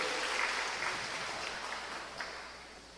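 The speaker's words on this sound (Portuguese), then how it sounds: "Pode aplaudir ao Senhor." A church congregation applauds during a sermon, a faint, continuous patter of many hands clapping that stays steady and slowly eases off, heard from a distance.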